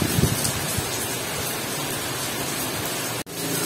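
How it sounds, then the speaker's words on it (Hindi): Heavy rain pours steadily as a dense, loud hiss on a Friday morning during Ramadan, with a brief dropout near the end and no talking. "बहुत तेज बारिश हो रही है यार"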